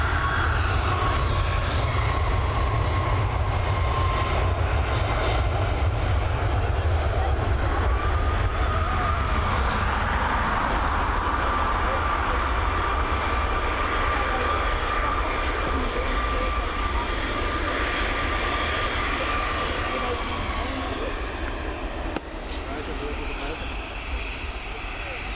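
A British Airways jet departing Dublin Airport produces a steady, continuous engine roar with a whining tone above it, holding level throughout at moderate loudness.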